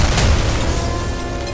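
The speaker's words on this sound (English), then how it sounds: "There's been an explosion." A single loud, deep boom rolls out and fills the space, then slowly fades into a rumbling tail.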